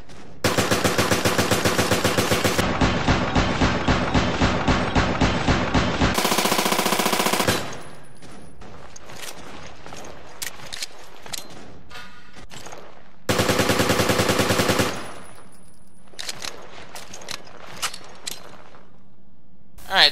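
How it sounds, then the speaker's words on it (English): The Heckler and Koch MP5 submachine gun fires in Resident Evil: Revelations, loud rapid full-auto bursts that return after a stretch of quieter clicks and single shots. "So the first one is the Heckler and Koch MP5."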